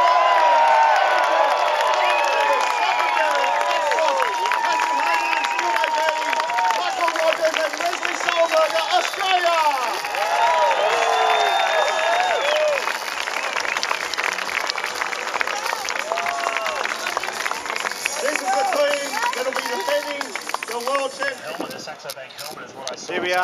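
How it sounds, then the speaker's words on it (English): Roadside crowd at the 2010 UCI Road World Championships road race in Melbourne–Geelong, loud and sustained cheering, clapping and shouting throughout, with an announcer's voice mixed in and a brief dip near the end. "Round of applause"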